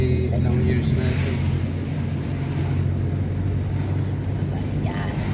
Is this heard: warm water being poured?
no